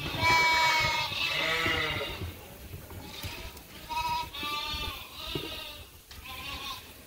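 Sheep ewes bleating on a farm, several overlapping calls in close succession, loud and near, with harmonic wavering bleats repeating through the whole stretch.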